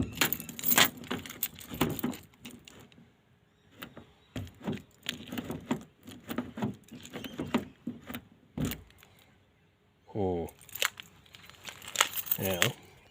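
A Mazda Premacy car key jangles and clinks in several short bursts, close and fairly quiet, with someone talking in between.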